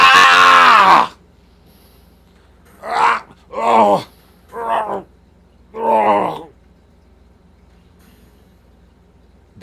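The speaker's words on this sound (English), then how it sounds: "That was the scream he heard. I've heard that scream before." In the Phoenix Wright video game, a loud, strained voiced cry opens the sequence, followed after a pause by four shorter groaning or screaming bursts in an uneven rhythm, each loud and up close with quiet gaps between.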